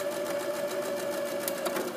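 A sewing machine backstitches the seam of a drawstring bag, a fast, even mechanical whirring hum with rapid needle clatter, close and continuous for the whole stretch.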